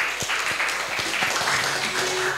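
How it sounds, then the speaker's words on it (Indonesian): A studio audience claps in a dense, steady patter of hands that holds at an even level for a couple of seconds. "Tepuk tangan buat Pak Ismail."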